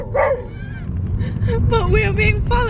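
Inside a car, a dog barks and growls at a motorcyclist following behind. The sharp, close barks sit over road noise and voices.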